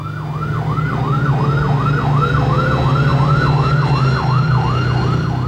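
An airport fire engine's siren wails in a steady, rapid up-and-down cycle over a low, constant engine rumble.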